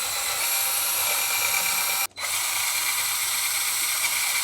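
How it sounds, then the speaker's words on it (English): A power drill fitted with a wheel hub cleaning brush whirs continuously at high speed on a car's wheel hub, cutting out for a split second before spinning up again, close and steady. "This wheel hub cleaning kit has this adapter here for a power drill"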